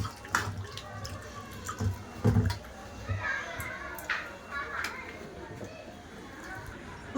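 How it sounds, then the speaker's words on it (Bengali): Cut potatoes washed in water while cooking a fish curry with cauliflower and potato: splashing, sloshing and dripping that comes and goes at close range, with a person talking over parts of it. "আলুটা ধুয়ে তুলে নেবো সাইডে"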